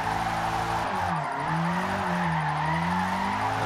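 A drifting car in the Forza Motorsport racing game, engine droning and whining up and down in pitch while tires squeal continuously, a loud, steady skidding roar with a brief dip as the clutch is kicked.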